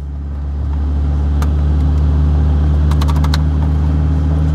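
A Mazda Miata camera car driving at a private track day, its engine giving a steady low drone throughout with light interior rattles and clicks over the top.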